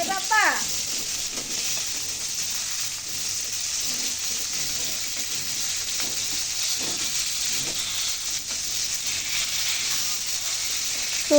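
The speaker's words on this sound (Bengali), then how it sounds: "এই যে মাছটা আমি ভালো করে ধুয়ে পরিষ্কার করে এখন এই যে ভাজতে বসে দিচ্ছি এই যে মাছগুলো ভেজে নিতেছি ভালো করে" Washed fish fry in a pan, sending up a steady, moderately loud sizzle and hiss throughout, broken by a few light clinks and handling sounds. A voice talks over the frying.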